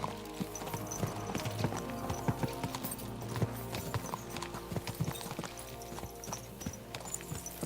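Horses' hooves clip-clop in a steady, rapid galloping rhythm as riders spur them on in the medieval video game Kingdom Come: Deliverance 2, loud and close with a low rumbling bed beneath.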